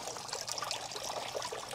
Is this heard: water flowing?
yes